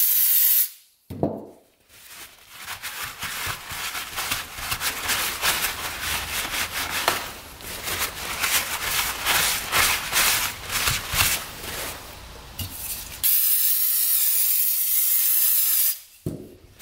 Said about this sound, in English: Spray it down with some brake cleaner.